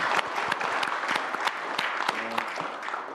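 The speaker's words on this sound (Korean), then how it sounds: "잘하셨습니다. 박수 한번 쳐줄까요?" A group at a government cabinet meeting breaks into applause, a steady patter of many hands clapping indoors at moderate volume for about three seconds, with a brief voice briefly heard underneath.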